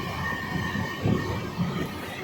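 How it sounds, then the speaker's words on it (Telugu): At night, an ICF Seshadri Express passenger train slows for a crossing train near Navapalem, making a steady, close interior rumble of wheels and carriage with a couple of brief heavier thumps, and no voices. "నవపాలెం దగ్గర మనకు ఒక ట్రైన్ అయితే క్రాస్ ఓవర్ అవుతుంది దానివల్ల మన ట్రైన్ కూడా స్లో అయింది"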